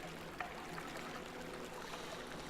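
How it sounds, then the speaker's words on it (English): Water flows gently and continuously through a dojo garden in the Warframe video game, a faint, even trickling stream without any talking. "Just the sound of water."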